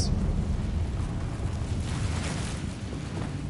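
A Confringo fire spell goes off in Hogwarts Legacy with a loud, rumbling, sustained blast. The dense roar fills the whole moment and does not fade, and no one speaks.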